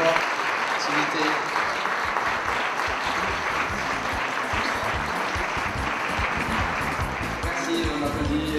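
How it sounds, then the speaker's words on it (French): An audience claps loudly and steadily at an event, a dense, sustained wash of applause that neither swells nor fades. "On applaudit très très fort"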